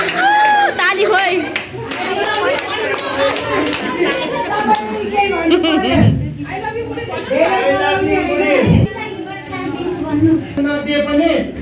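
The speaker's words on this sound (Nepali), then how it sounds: "आज त ताली खाने भइरहेछ यहाँ" Clapping in an office during a Valentine's Day celebration, scattered claps mixed with lively chatter and people talking over them throughout.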